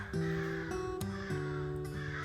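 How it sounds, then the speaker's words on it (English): Crows cawing outdoors in the morning, a series of harsh, repeated calls overlapping one another at moderate distance, fairly faint and steady throughout with no talking. "The crows are going off."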